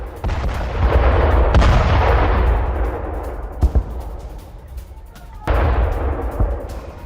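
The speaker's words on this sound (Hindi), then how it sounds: "यूक्रेनी हथियार डिपो में जोरदार धमाका हुआ है।" A sustained roar of heavy bombing explosions at a weapons depot in Ukraine, with rumbling booms and sharp blasts, loud and continuous, dropping briefly before another burst of detonations.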